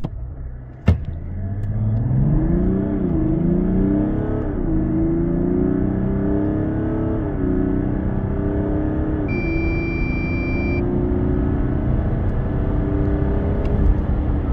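A Mazda CX-60 with a 3.3-litre inline-six diesel, 200 horsepower, rear-wheel drive and eight-speed automatic accelerates hard from a standstill, the engine note climbing and dropping through several gear shifts under a steady rumble of road noise.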